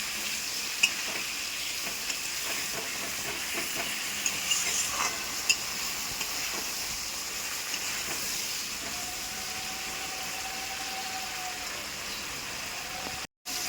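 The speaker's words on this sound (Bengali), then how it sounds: "দিয়ে ভালো করে আমি কষবো।" Diced potatoes sizzle and fry steadily in a pan of hot oil while being stirred for a fish curry, a constant close crackling hiss with occasional clinks, with no talking.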